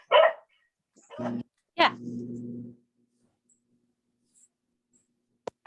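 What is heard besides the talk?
dog barking and whimpering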